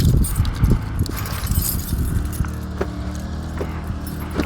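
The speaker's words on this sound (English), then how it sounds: "I gotta grab my keys." Keys jangling near a barn, bursts of metallic clinking and rattling as they are pulled from a pocket, close and loud at first, then lighter jingles over a low background hum.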